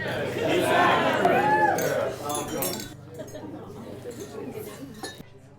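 Glasses clink during a wedding toast, several bright chiming taps amid a crowd's cheering and chatter that fades down after a couple of seconds.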